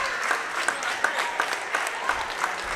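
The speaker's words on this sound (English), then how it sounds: "Much to the applause of the Greenwood fans" Greenwood fans in a gym at a high school volleyball match clap in a brisk, fairly even rhythm, moderately distant, with crowd murmur beneath.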